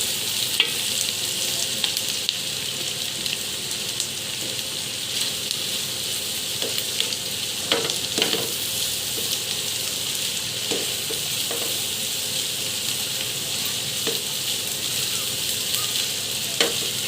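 Vegetables and onions seasoned with salt being stir-fried in a pan for restaurant-style fried rice, a continuous close sizzle broken by occasional scrapes and knocks of the spatula.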